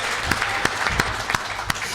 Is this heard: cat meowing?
no